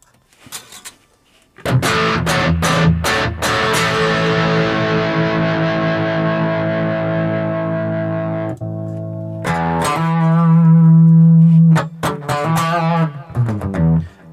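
Distorted electric guitar through a Boss Katana amp on a brown-tone preset, with loud sustained chords and picked notes, a pause near the middle, then more heavy chords with crisp stabs at the end; no talking.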